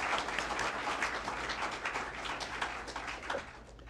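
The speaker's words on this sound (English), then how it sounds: "A welcoming applause." Soft, distant applause from an audience at a community dialogue event, dense steady clapping that carries on evenly for several seconds at a low level.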